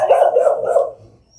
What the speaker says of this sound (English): Okay, look at this dog.